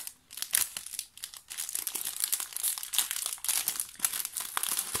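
A small plastic bag of die-cut paper decorations is handled up close, giving near-constant crinkling and rustling with bursts of sharper crackle.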